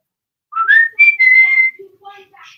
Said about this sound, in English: So I'm going to do my whistle now and bring him in real quick to answer your question.